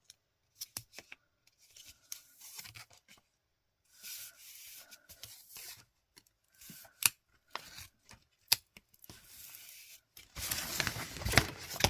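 Irregular crisp snips and rustles of scissors cutting close by, with pauses between bursts, ending in a louder stretch of broadband scraping or tearing, likely tape, during scrapbooking shaker-box crafting.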